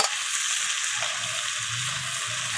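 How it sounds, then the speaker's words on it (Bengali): Steady, loud sizzling of drumstick (sajne data) pieces being sautéed with spices in a pan for a vegetarian dish, continuous frying hiss with light stirring underneath, close up and without talk. "তো সজনে ডাঁটাগুলোকেও সমস্ত কিছুর সাথে এইভাবে কষিয়ে নিচ্ছি"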